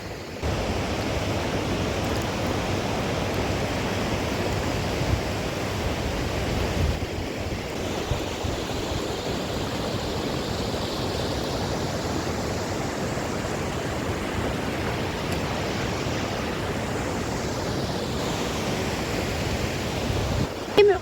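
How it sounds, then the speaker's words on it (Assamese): A river called Nuranang flows past in a steady, loud rush of water that fills the scene without pause and with no talk over it. "এই নদীখন আহিছে চেলা পাছৰ পৰা বৈ আহিছে এই নদীখন"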